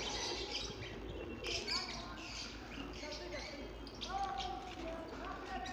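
Several birds chirp and call at a zoo, faint and scattered over a steady outdoor background murmur, with no clear talk.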